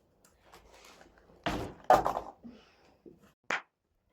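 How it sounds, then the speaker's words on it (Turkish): An indoor door at home pushed shut, giving a couple of solid thumps with a short sharp knock a moment later, close by and fairly loud against a quiet room. "Şu kapıyı örtelim."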